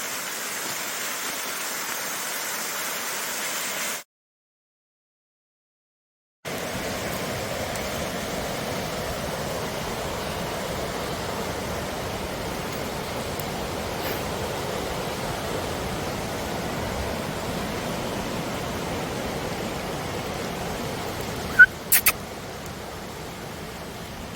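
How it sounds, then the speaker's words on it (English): Waterfall heard from nearby outdoors, a broad steady rushing roar that drops out briefly and then resumes unchanged, with a couple of faint sharp clicks near the end. "The waterfall that Glenn and I shaved in front of."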